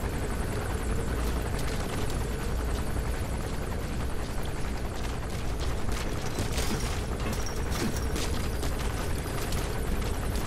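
A loud, steady helicopter rotor drone in the video game Metal Gear Solid V: The Phantom Pain fills the whole clip, dense and close, with rumbling low end and faint scattered crackles.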